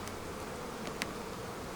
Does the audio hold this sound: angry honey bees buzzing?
yes